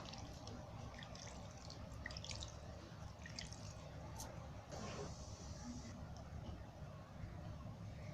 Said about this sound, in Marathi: इथं असं थंड पाणी ओतायचं थोडं.